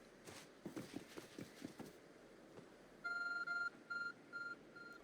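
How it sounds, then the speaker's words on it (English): Repeated electronic beeps come from a glowing object in the video game Pokemon Legends Arceus, sounding as four short, evenly spaced tonal bleeps after footstep-like clopping, fairly loud and clear. "There's a glowing beeping object over there."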